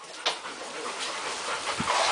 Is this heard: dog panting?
yes